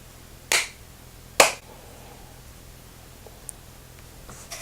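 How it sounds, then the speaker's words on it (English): Two sharp hand claps a second apart in a quiet room, each crisp and close, followed by faint small ticks and handling noise. "I'm going to do a clap"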